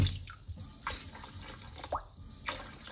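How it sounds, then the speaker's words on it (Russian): Cold tap water poured over freshly boiled beetroot in a kitchen sink, heard as soft irregular drips and splashes at close range with a few brighter spatters, no talking. "Сейчас заливаю холодной водой."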